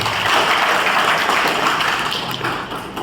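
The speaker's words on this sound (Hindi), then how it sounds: "चलो अपने लिए ताली बजाते।" An audience claps together at a Brahma Kumaris program held in a school hall in Shahabad Markanda, producing a dense, steady wash of clapping that stays loud throughout and eases slightly near the end.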